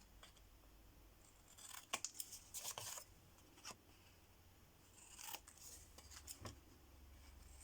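Scissors snip the corners of paper sheets to bevel them while making a handmade scrapbook album, giving a series of crisp, close cutting clicks in short bursts with quiet pauses between.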